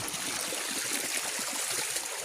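Water flows in a countryside stream used for bathing, a steady broadband rushing and trickling that stays even and fairly soft throughout, with no voices.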